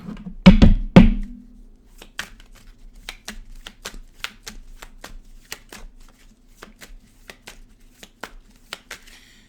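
Tarot cards shuffled close up: a few heavy riffling bursts at the start, then a long run of crisp, evenly spaced card snaps and flicks, alone with no talk.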